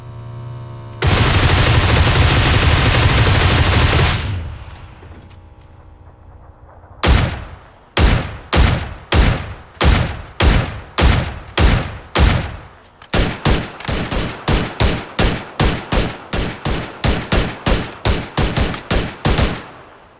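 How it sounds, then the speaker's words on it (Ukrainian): Loud gunfire in PUBG on the Vikendi map: a long sustained roar of automatic fire, a brief lull, then steady rapid bursts of individual shots continuing to the end. "по мені хтось стріляє"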